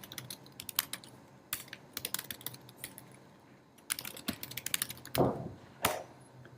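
Typing on a computer keyboard: bursts of close, crisp key clicks in irregular runs with short pauses, heard alone in a quiet room.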